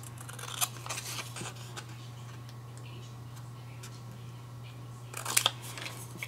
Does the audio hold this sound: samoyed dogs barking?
no